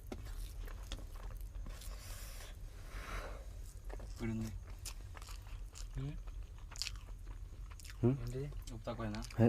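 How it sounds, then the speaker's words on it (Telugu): Someone chews and bites into home-cooked food while tasting it, close crunchy bites scattered among quiet pauses, with talking in between. "ఈరోజు మా బన్నీ చేసిండు వంట. టేస్ట్ చూద్దాం."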